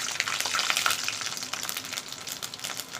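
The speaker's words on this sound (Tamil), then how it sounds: "எண்ணெய் சூடானோடனே பூண்டு," Garlic fries in hot oil in a pan for mint rice, making a dense, close sizzle with bright crackling that holds fairly loud and then eases slightly, with no voices.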